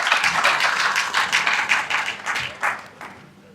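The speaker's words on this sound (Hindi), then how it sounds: "कृपया करके जोरदार तालियों से उनका स्वागत करें" Audience applause welcoming Rao Narbir Singh, a Haryana minister, at a hall gathering: dense, steady clapping from many hands that holds at even loudness, then thins and fades toward the end.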